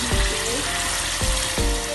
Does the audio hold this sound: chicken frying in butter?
yes